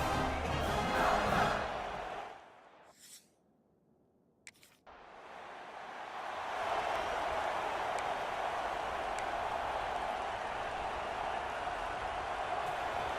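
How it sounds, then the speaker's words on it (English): Stadium crowd in the College Football 26 video game: a loud, broad roar of cheering fans that drops away briefly to near silence, then swells back into a sustained, steady crowd din. "Listen to the crowd energy here in the early going."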